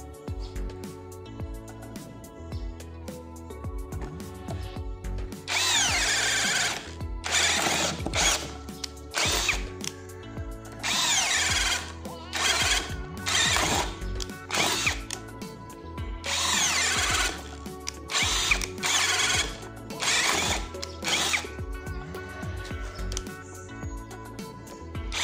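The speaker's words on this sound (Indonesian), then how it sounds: "Ini mata bor kipas, saya menggunakan percepatan nomor 2 atau yang paling kencang, modenya mode drilling tetap." A Kenjiro 21V brushless cordless drill on its fastest speed drives a spade bit through a 2 cm mahogany board, whining in repeated loud bursts with short pauses and labouring under load, close to the listener.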